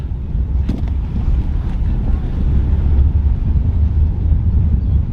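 Strong wind buffets the microphone at a seaside outfall pier, a loud continuous low roar with gusty swells over the whole span, a few faint clinks and a voice briefly audible underneath.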